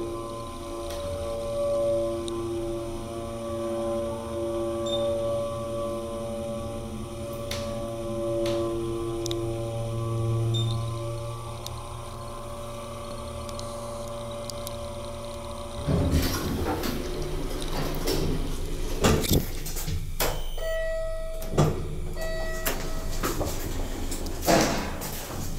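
Richmond hydraulic elevator at Wesbrook Village humming steadily with a low motor drone, then sliding doors rumbling open and thudding near the end, with scattered clicks and knocks nearby.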